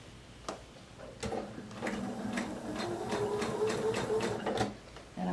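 A sewing machine stitching a quilt toward its corner runs in a steady, fairly quiet mechanical whir with rapid needle ticks, after a few separate clicks at the start.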